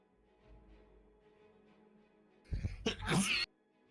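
A single sneeze from someone at a tabletop role-playing game session, a sharp burst near the microphone after a quiet stretch of faint background murmur.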